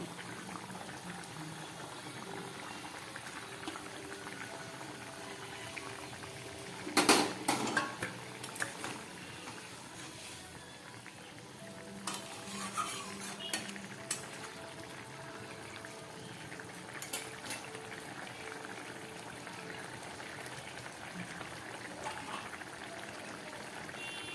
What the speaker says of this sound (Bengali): মাছের ঝোলটা ফুটে উঠেছে